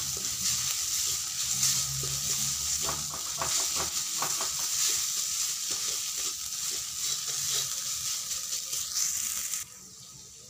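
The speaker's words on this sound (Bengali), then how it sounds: "ভালো করে একটু ভেজে নিতে হবে।" Aloo paratha filling sizzling as it fries in a pan, a continuous loud hiss with scraping and stirring knocks from a spatula in the middle, the sizzle dropping off abruptly near the end.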